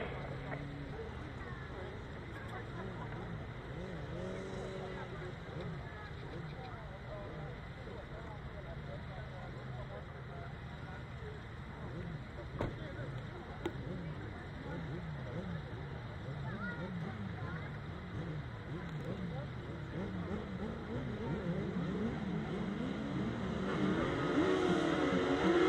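Several cars racing on a grass track, engines droning and surging continuously at moderate distance and building louder toward the end, with a commentator talking over them.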